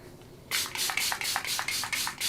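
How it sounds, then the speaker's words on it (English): A Beauty Crop Vitamin Babe Vitamin C setting mist is spritzed in about eight quick, close pump bursts. They come in a steady rhythm after a brief quiet moment, with no talking. "I'm going to go in with my Beauty Crop Vitamin Babe Vitamin C Setting Mist"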